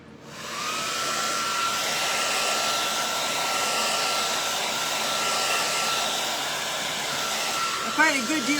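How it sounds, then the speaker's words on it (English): Hair dryer on a cool setting blowing over a Gelli plate print, a steady close whooshing hum that starts abruptly and runs unbroken, with a brief voice near the end. "we're going to dry this with a cool dryer"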